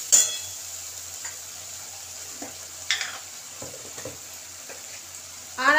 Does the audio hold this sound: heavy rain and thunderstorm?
no